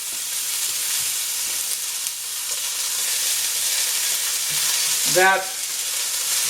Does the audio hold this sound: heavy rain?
no